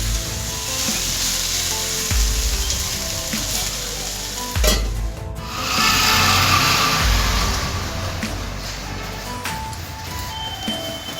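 Potatoes fry in a pan over a lowered gas flame, giving a steady loud sizzle through the clip with a few low knocks of stirring and a brief louder burst near the middle.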